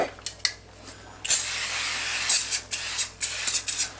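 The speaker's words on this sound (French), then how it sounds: "Donc je vais mettre un peu de spray sur le dessus." Cooking oil spray hisses over croutons in one long burst followed by several short puffs, close and clear, with light rustling between sprays.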